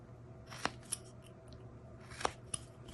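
A whittling knife cutting a small V notch into wood, producing a few sharp, quiet slicing clicks spaced apart, close to the listener against a faint steady background hum.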